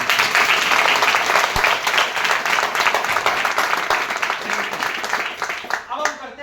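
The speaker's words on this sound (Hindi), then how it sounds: "मैं चाहूंगा एक बार इनके लिए अब तक की सबसे जोरदार तालियां" Loud, sustained applause from a large audience at a motivational seminar, dense clapping filling the whole stretch and easing slightly near the end, with cheering voices mixed in.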